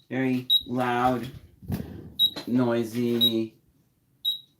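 A clock's loud alarm buttons give several short, sharp, high-pitched beeps, spaced out between stretches of a person talking.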